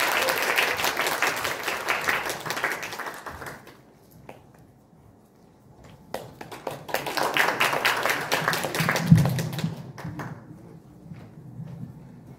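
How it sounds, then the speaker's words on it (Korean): An audience at a YMCA leaders' training lecture breaks into sustained applause to welcome a speaker. The clapping fades, then swells again into a second burst of clapping before tapering off. "큰 박수로 환영해 주십시오."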